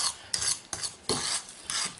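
Matzo ball mixture seasoned with ginger, cinnamon and celery flakes being stirred in a bowl, giving five loud scraping, rasping strokes in an irregular rhythm, close up with no talking.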